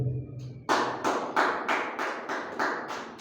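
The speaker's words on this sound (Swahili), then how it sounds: "Mpe Bwana makofi mazuri." A church congregation clapping hands in a steady rhythm of loud, evenly spaced claps that start abruptly after a brief quiet moment and carry on alone.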